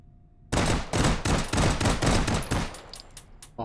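Rapid bursts of gunfire from a weapon in Hot Dogs, Horseshoes & Hand Grenades VR, loud and close, with a string of sharp evenly spaced shots after a moment of quiet.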